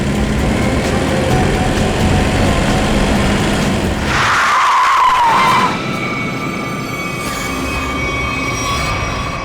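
A car skids to a sudden stop in a near collision on a road in a crime drama. A loud, sharp tire squeal rises over a steady engine and traffic rumble, then fades.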